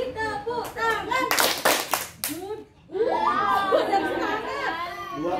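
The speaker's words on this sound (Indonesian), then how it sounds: "Mari tepuk tangan." Children clap their hands in a classroom group, with a loud burst of clapping under excited chatter, followed by children's voices singing and talking.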